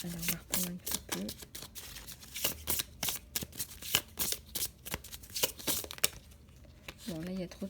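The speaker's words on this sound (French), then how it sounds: "il y a trop de cartes qui sont tombées" Playing cards fall and get shuffled at home, giving a busy patter of close riffles, flicks and papery slaps while a voice hums or sings faintly underneath.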